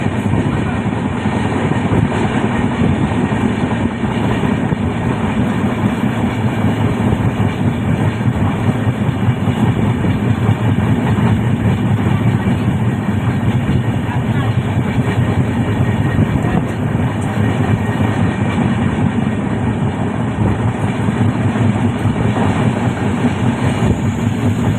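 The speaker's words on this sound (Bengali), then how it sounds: "গাইজ আমরা চলে এসেছি, ট্রেন থেমে গেছে" A passenger train rolling along the rails, heard from inside as a loud, continuous rumble and rattle with faint rhythmic clacking, steady for the whole stretch with no talking.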